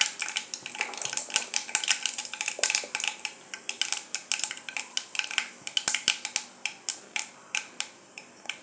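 Fennel and mustard seeds sputter in hot oil in a kadai while a tempering is made for a ridge gourd and prawn gravy. Dense, crisp little pops and crackles run steadily throughout, fairly close, with no talking.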